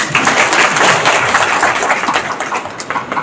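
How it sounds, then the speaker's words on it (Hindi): Steady, dense applause from a crowd of village council heads honored at a district ceremony for tuberculosis elimination, many hands clapping together at close range and fairly loud throughout. "मैं चाहती हूँ कि सब लोग अपने लिए ताली बजाएं।"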